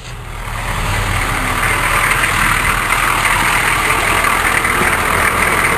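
A K5 Blazer engine catches and settles into a steady, loud idle, its rough low rumble filling the space continuously from start to finish.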